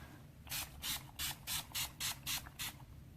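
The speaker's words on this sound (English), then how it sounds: "So I'm just going to spray my face like so." Grapefruit-scented makeup setting spray misted onto a face, eight short hissing pumps in a quick even rhythm, close and fairly quiet, with no talk during them.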